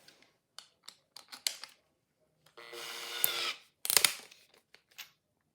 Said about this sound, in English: And you'll need a drill.